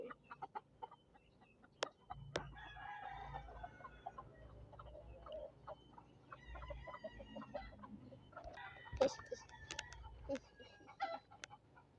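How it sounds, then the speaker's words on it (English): Chickens clucking steadily with occasional crowing calls, close by and fairly loud, among farmyard background noise. "Chicken."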